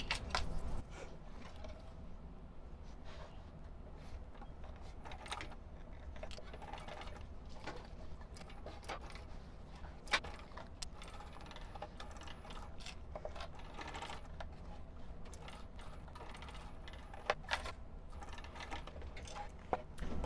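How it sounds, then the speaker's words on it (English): A sewing machine stitches the bottom seam of a wristlet bag with piping, giving a quiet, steady mechanical clatter of rapid needle ticks and gear noise, close but soft, running throughout without talk. "I'm going to go ahead and sew the bottom seam first"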